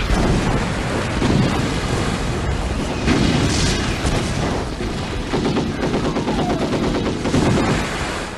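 Heavy artillery and machine-gun fire sound throughout a night river-crossing battle scene in a war film, with dense booming blasts and rapid rattling bursts layered over a continuous loud roar, close and unrelenting.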